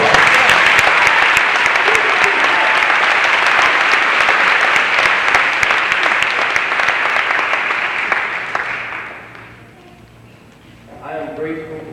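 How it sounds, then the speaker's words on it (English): A church audience at St. John Baptist Church in Buffalo, New York applauds the mayor with loud, sustained clapping for about nine seconds, then fades away, leaving faint murmuring at the end. "a great round of applause."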